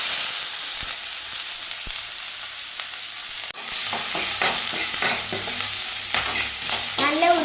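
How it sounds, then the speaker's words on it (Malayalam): Sliced onions sizzle in hot oil in a pan for a chicken fry, a steady frying hiss broken by the scrape and clatter of stirring, close and clear with no talk. "എണ്ണ ചൂടായതിൻ്റെ ശേഷം ഉള്ളി ഇട്ട് കൊടുക്കുക."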